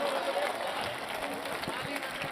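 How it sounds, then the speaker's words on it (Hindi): Crowd clapping at a Hindi comedy poetry show, a dense, steady patter of many hands that stays fairly even and mid-distance throughout, with some voices underneath. "एक बार हाथ खड़े करके बजाओ तालियां।"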